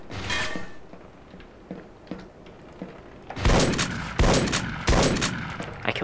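Gunfire from E.Y.E. Divine Cybermancy: a sharp shot at the start, then quieter clicks and creaks, then three loud close bursts in quick succession near the end, with no voices.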